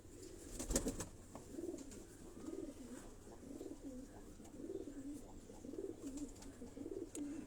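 Pigeons kept at a home loft coo in a steady, repeating rhythm, soft rolling calls close by with a brief louder burst of flapping or movement early on.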